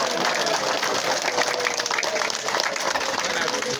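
Audience applause in a crowd setting, a dense, even patter of clapping lasting a few seconds with voices mixed in.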